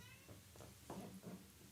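A house cat gives a few soft meows in quick succession, quiet and close, over a low steady background hum.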